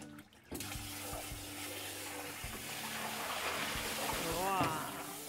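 Shibori-dyed fabric drops into water with a sudden splash, followed by continuous sloshing and trickling water that swells slightly toward the end.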